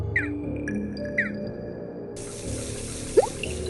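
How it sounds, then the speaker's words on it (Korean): Water begins to rush steadily after a valve is turned in a game, a soft hiss that starts partway through, following a few bright chiming tones, with a small drip-like blip near the end. "어디선가 물소리가 들리는 것 같은데?"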